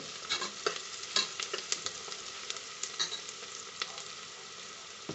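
Tomato bath ingredients frying in a pan while being stirred, a close sizzle broken by repeated sharp scrapes and knocks of a spoon against the pan, with no speech.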